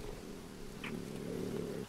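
A jaguar purring in the jungle survival game Green Hell, a faint low rumbling purr lasting under two seconds, soft and steady with a brief higher rustle in the middle.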